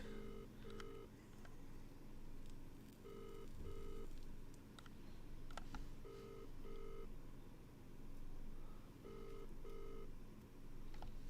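Telephone ringing in a carp fishing game, repeated paired electronic ring bursts in a steady rhythm, about four double rings with pauses between, fairly faint over a constant low background hum.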